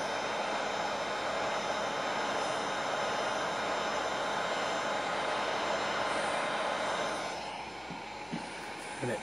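A heat gun blasts hot air onto automotive paint as it is stripped with a razor blade, producing a loud, steady roaring hiss that eases somewhat toward the end.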